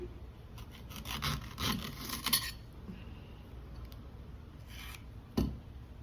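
A knife cuts through a raw green plantain, with a burst of quick rasping, scraping strokes close up at first, then quiet, and one sharp final cut, without talking.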